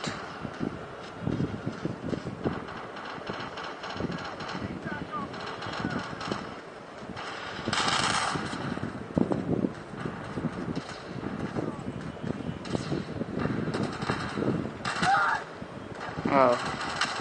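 Gunfire in Call of Duty shotgun practice, with scattered shots and bursts at varying distance, mixed with wind and other game noise under frequent talk from players.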